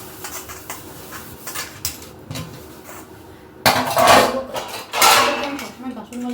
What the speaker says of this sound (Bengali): কতগুলো বাসন ছিল, ভাবলাম ধুয়ে নিই